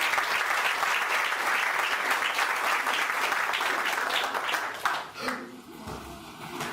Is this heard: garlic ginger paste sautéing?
no